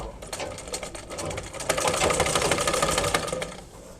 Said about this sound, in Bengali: যেখানে কোনা কেটেছি এখান থেকে সেলাইটা শুরু করব